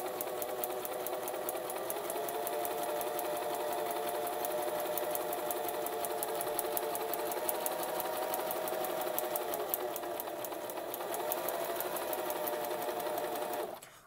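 Singer Tradition sewing machine stitching continuously, a fast, even mechanical whirr with rapid needle clatter that holds steady for over ten seconds before stopping abruptly at the end, heard close up with no talking.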